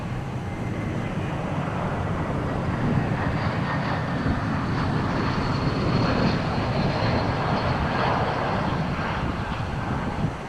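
Turkish Airlines airliner at Dallas Fort Worth International Airport, a continuous broad engine rush at moderate distance, holding steady with a slight swell near the middle.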